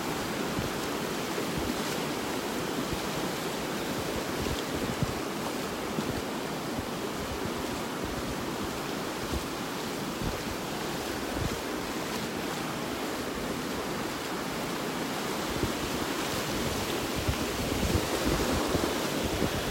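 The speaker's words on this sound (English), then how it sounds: "Very stimulating with the waves." Ocean waves break and surge continuously along a beach in North Naples, Florida, heard while wading, with wind buffeting the microphone in a steady loud roar.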